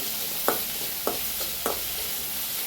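Ginger garlic paste frying in a pan with onions gives a steady low sizzle, broken by three or four short scraping stirs spaced about half a second apart.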